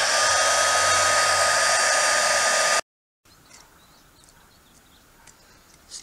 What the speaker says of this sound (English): break out the trusty old heat gun